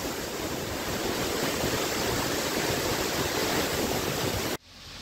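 A waterfall cascades from a great height along a mountain road between Chungthang and Lachung in Sikkim, giving a loud, dense, unbroken roar of falling water that cuts off abruptly near the end.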